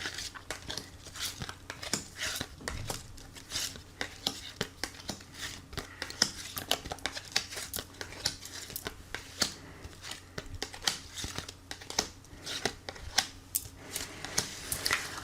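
Oracle cards shuffled and drawn for a reading: a long run of quiet, close, rapid papery flicks and soft taps in irregular bursts, with faint low background hum and no clear talk.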